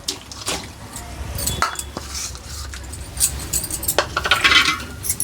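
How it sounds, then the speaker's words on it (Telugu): Jaggery tipped into a cooking pot with coconut gratings for sweet kudumulu, giving a few clattering, clinking thuds of utensil against metal, moderately close with scattered light scraping and no talk. "బెల్లం వేస్తున్నాండి"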